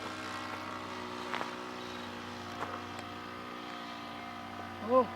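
A model Zero aircraft on its first flight after takeoff, its engine a steady, sustained drone throughout with a few faint bumps and a brief louder blip near the end.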